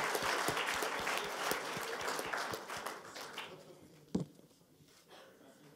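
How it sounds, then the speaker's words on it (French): Applause for an award winner at an engineering invention prize ceremony: a modest, fairly distant patter of clapping that thins out and fades, with a single sharp knock near the end. "On peut l'applaudir"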